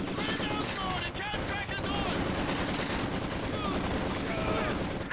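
Machine gun fire in a Company of Heroes 2 battle, loud dense bursts of rapid shots layered with distant gunfire and battle noise, continuous throughout.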